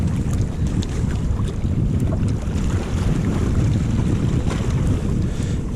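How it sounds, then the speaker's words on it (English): Strong cold wind blowing over open water at a lake, a loud constant rumbling roar buffeting the microphone, with faint splashes and creaks of a boat underneath and no talking. "That wind is pretty rough down here."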